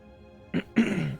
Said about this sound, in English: Oh my god, I'm coughing. I'm like wheezing and coughing.